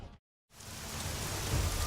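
Rain pours at night over Prague in the video game Deus Ex: Mankind Divided. After a brief silent gap it returns as a steady, loud, hissing downpour with no voices.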